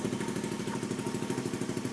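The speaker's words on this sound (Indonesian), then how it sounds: "ini suara dari knalpotnya ya, kalian bisa denger" A Honda Beat scooter with an RCM Racing half-filter exhaust idling close by, a steady rapid putter with a rough, buzzy pulsing rhythm throughout.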